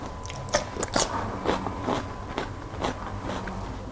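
Crisp, repeated crunching bites and chewing of fresh cucumber served with a Thai boiled-egg chili dip, close to the mic in a quiet setting, several distinct bites over a few seconds with no talking.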